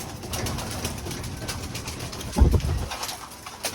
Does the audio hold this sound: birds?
yes